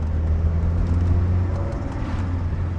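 Steady low engine drone and road rumble from inside a car with a freshly forged, rebuilt engine, cruising toward a bypass; constant, moderately loud hum with no talking.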